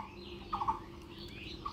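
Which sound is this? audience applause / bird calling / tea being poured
bird calling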